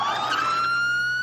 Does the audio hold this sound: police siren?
yes